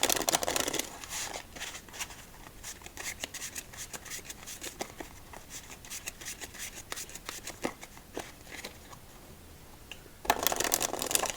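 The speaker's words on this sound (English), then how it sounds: "Alright, one more shuffle and then we'll begin our third game of the night." Playing cards being shuffled during solitaire, a dense run of soft riffling and snapping card flicks lasting several seconds, closing with a louder burst of riffling, with no talking.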